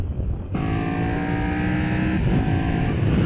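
A Triumph Tiger 1200 triple engine with T-plane crank roars up close, revving hard with a rising, growling pitch that kicks in abruptly after a short rumble.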